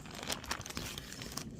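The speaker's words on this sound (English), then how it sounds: "Next step is to put it inside a plastic bag" A plastic bag crinkles and rustles as it is handled while packing date palm seeds, giving a close, continuous crackle with a few sharper crunches and no talk.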